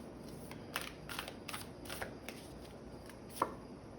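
Tarot cards being shuffled produce quiet, rapid riffling bursts in an irregular rhythm, with a sharper snap near the end, close by and alone without speech.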